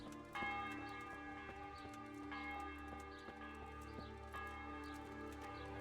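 Church bell tolling in the medieval town of the video game Kingdom Come: Deliverance, repeated rich metallic strikes ringing out in a steady rhythm, each decaying into the next, with no talk over it.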